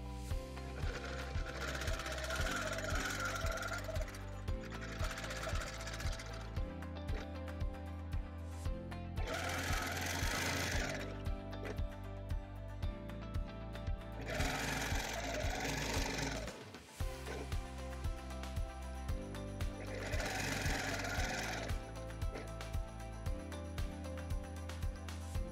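A quilting sewing machine stitches in the ditch across a Celtic Wedding Ring quilt, running in steady, loud rapid bursts separated by brief pauses with a constant motor hum throughout.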